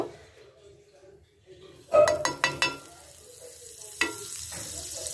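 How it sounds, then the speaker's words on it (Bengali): Butter going onto a hot tawa griddle: a few quick metallic spoon clinks ring out, then a soft sizzle builds and carries on quietly, with no voices heard. "তাওয়া গরম হয়ে গেছে। এতে এবার আমি একটুখানি বাটার দেব।"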